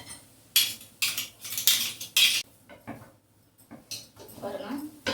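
A utensil stirring batter in a nonstick pan for a Ganesha Chaturthi sweet, heard as a run of close, loud metallic scrapes and clinks in bursts, followed by quieter clatter and a voice speaking.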